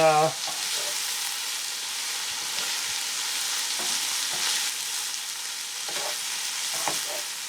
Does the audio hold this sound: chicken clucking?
no